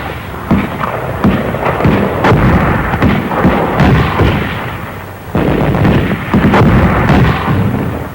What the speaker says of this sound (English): They covered their advance with mortar fire.